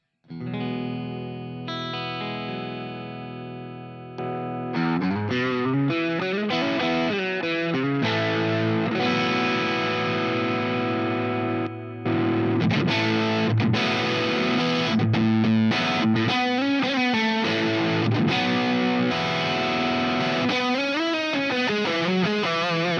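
Electric guitar played through a PRS or Knaggs rig with a Mighty Red pedal for heavy gain, a high-gain distorted tone with sustained chords and notes ringing out over several passages and brief pauses.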